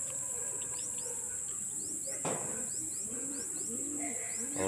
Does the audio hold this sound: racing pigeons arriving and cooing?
yes